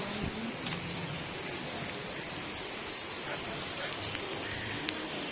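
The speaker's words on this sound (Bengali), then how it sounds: "আমাদের এখানে এখন প্রচন্ড বৃষ্টি হচ্ছে দেখুন" Heavy rain pours down steadily in a dense, even hiss of drops on surfaces, close and continuous throughout, with no speech.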